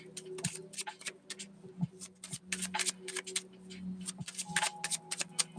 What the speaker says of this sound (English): Oh, these cards are shuffling like this.